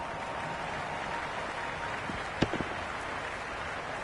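Crowd noise from the Cricket 26 video game, a broad steady wash of distant cheering and applause with a couple of sharp knocks midway, continuous and even in level, with no voices.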